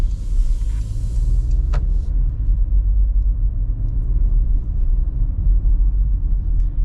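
A 2026 Porsche Macan with air suspension rolling over bumps: a steady, deep low-frequency road rumble inside the cabin, with one brief sharp knock near the start and otherwise even, muffled driving noise.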